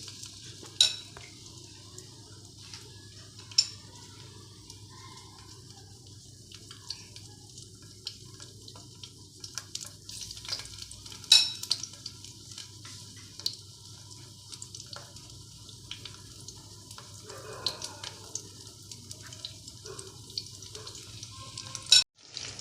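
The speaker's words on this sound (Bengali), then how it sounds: "এবার মাশরুমগুলো ব্যাটারে ঠিক এরকমভাবে কোট করে নিয়ে তেলে ছেড়ে দিচ্ছি।" Batter-coated mushrooms for chilli mushroom fry in hot oil with a faint, steady sizzle, broken by scattered light clicks and pops throughout.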